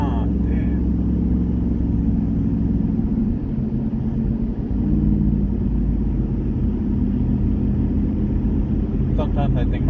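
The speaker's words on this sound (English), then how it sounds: "Sometimes I think my truck is too loud." A loud truck engine drones steadily throughout while driving, a dense low rumble close by with no break, and faint brief voices near the end.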